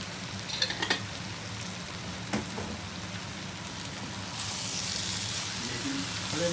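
Whole cumin and spices sizzling in hot oil in a pan while potato and eggplant curry is being cooked, a few clinks from stirring first, then a steady loud crackling hiss that swells near the end.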